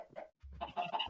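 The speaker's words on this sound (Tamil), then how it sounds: "கோழி" A chicken clucks in short, close bursts, loud and clear against a quiet farmyard background, with no talking.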